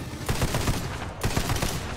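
Sniper rifle fire in the video game Tiny Tina's Wonderlands, heard as two dense bursts of crackling shots a second apart, moderately loud within busy game sound.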